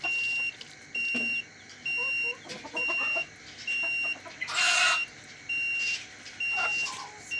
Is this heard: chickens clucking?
yes